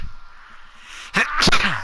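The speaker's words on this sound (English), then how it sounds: "I got another sneeze coming on." One sudden, loud sneeze bursts out close by after a quiet moment, followed by a short vocal sound.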